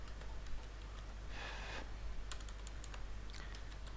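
Sparse, soft keyboard taps on a computer while searching on a Windows server, scattered clicks over a steady background hum, with one brief broadband whoosh midway.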